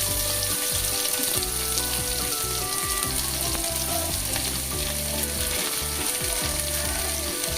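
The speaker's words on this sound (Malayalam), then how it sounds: "അതിലേക്ക് നമ്മൾ ചെറുതായിട്ട് അരിഞ്ഞ് വെച്ചിരിക്കുന്ന ഉള്ളി ഇട്ട് കൊടുക്കുക." Finely chopped onions go into hot oil where curry leaves are already frying, for a traditional Kerala chicken curry; a loud, steady, close sizzle with crackling bursts runs throughout and no one talks.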